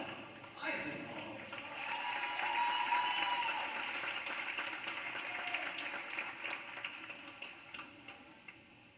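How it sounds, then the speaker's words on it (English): Crowd applause in a high school gym honoring a senior boys basketball player, a steady wash of clapping that swells after the first second and holds before slowly thinning, with some talk mixed in. "Let's hear it for Colin Eisenhorn."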